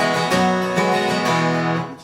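A single guitar chord in open E tuning with added notes on three strings, strummed once and left to ring for about two seconds, full and slightly muddy, close and alone.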